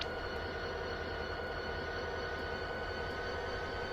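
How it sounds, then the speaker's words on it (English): A New Jersey Transit train approaches in the rail game Train Simulator 2020, heard as a steady, moderately quiet rumble with no talking. "Oh, here comes the train."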